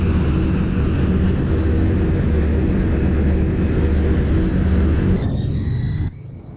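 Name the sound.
Douglas World Cruiser propeller plane rolling on runway, flight sim game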